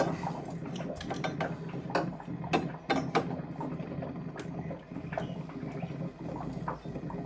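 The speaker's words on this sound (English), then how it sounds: "So now we've actually loosened up some nuts." A wrench works on compression nuts on domestic plumbing pipework, giving a steady run of close metallic clicks, ratcheting and scraping taps with brief sharper knocks throughout, with no talking.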